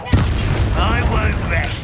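Confringo blasting spell in a Harry Potter video game: one sharp, loud burst at the start, followed by a rumbling tail with a voice over it.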